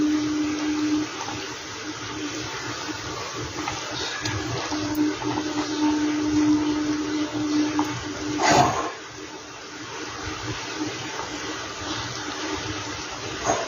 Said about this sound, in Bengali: এক এক করে আমি মাছগুলো দিয়ে দিচ্ছি সম্পূর্ণ